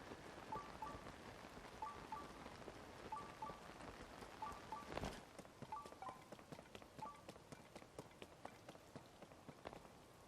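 Steady rain hisses and patters across a landscape in The Legend of Zelda: Tears of the Kingdom, a continuous wash of drops with soft game chimes and footfalls threaded through, plus one brief louder burst midway.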